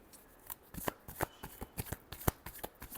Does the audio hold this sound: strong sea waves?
no